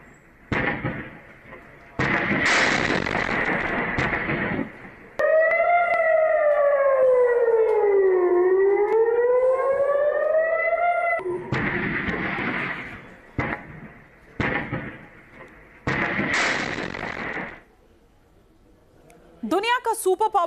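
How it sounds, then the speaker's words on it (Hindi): A loud city air raid siren wails after an Iranian attack, its pitch sliding down and back up in one long sweep, between bursts of noisy commotion. "ईरान के हमले के बाद पूरे शहर में सायरन बजने लगे।"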